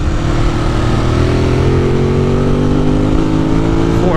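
A 2018 Ducati Monster 821 motorcycle engine pulls hard in fourth gear, a loud close exhaust drone with rising pitch throughout, no voices.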